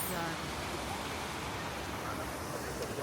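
A small river-like stream near an old town flows with a steady broadband rush of water. The sound is fairly faint and continuous.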